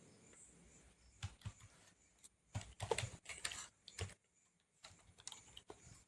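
Code is typed on a computer keyboard in irregular bursts of close, crisp key clicks, some clustered quickly and others spaced apart, quiet overall with short pauses between runs.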